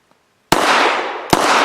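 Two sharp, loud gunshots from a folding pistol fed by a Glock 19 magazine, spaced under a second apart, each leaving a long ringing decay outdoors.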